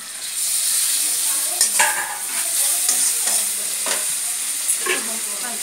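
Garlic paste sizzles in a pan with kochur loti (taro stolon) and shrimp, a bright, steady frying hiss punctuated by several stirring scrapes, close and fairly loud without any voices.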